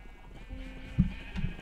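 A sheep in the Minecraft video game gives a short, low bleat, brief and moderately close over faint game ambience, with no talking.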